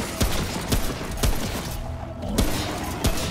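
Gunfire in the video game Remnant: From the Ashes, a handful of loud, sharp shots spaced roughly half a second apart over a steady rumbling game background, with no talking.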